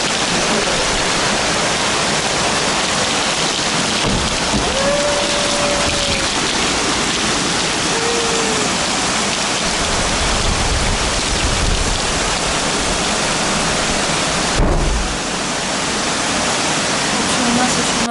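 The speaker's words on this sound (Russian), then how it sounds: "Такого дождя, друзья, вы, наверное, еще не видели." Heavy rain mixed with hail pours down in Alanya, Turkey, in a constant loud hiss, with a faint brief tone partway through and a sudden dip near the end.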